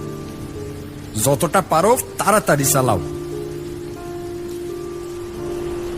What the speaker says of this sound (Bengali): ট্রাক আরো কিছুটা যেতেই আরো জোরে বৃষ্টি শুরু হলো।